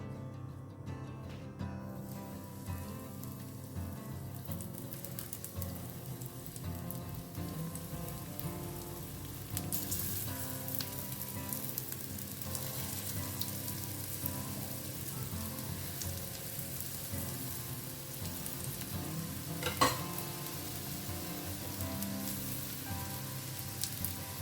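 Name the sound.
prawn dangar cutlets frying in a pan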